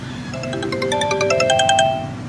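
An electronic phone ringtone plays a bright, repeating melodic pattern of tones, steady and fairly loud for a couple of seconds with no voices.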